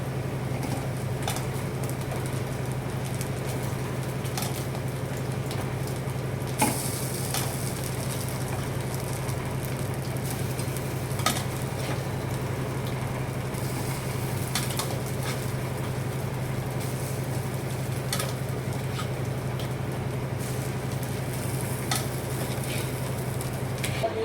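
Cooked rice being stirred and fried in a pan for egg fried rice, a soft ongoing sizzle under a steady low hum, with occasional scraping clicks from stirring scattered through.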